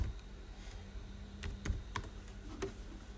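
Scattered computer keyboard keystrokes tap out an entry on a Karta Polaka application form, quiet and close, irregular clicks with short gaps.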